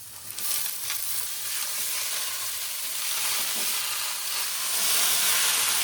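Spinach goes into a pan of vegetables already frying, giving a loud, steady sizzle that runs throughout and swells slightly toward the end, with no talking.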